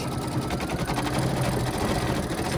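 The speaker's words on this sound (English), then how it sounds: "It's going to stitch along the tops of the legs." A sewing machine stitches along the tops of a fabric gnome's legs with a steady, fast mechanical whir and rapid needle chatter, loud and close throughout, with no talking.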